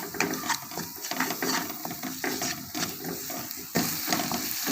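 Masala mixed with ginger-garlic paste frying in a pan, a continuous close sizzle with frequent rhythmic scraping and clicking of a spoon stirring, no talk.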